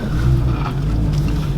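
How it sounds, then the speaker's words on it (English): A BMW E90 M3's engine holds a steady, loud, close idle with a deep, even rumble that never lets up. "Yeah, that's a great sounding engine."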